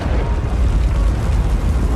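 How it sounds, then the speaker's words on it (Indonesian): A loud, deep explosion-like roar from a film rumbles continuously, heavy in the low end, with no break or fade. "terdengar ledakan keras"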